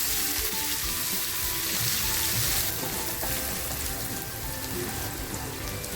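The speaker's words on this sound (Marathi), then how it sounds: "तेल छान तापले बघा तेलामध्ये थोडीशी हळद टाकते अगोदर आणि कांदा जो कापून घेतला होता तो टाकते" Chopped onion and turmeric hit hot oil for a dhaba-style bhindi masala, giving a loud, dense, continuous sizzle like heavy rain that eases slightly partway through.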